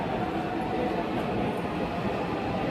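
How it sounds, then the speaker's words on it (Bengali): Metro train arriving at a crowded station at office closing time, a steady, loud rolling rumble with a faint high squeal near the middle, close by and without talk. "এই যে মেট্রো চলে আসছে"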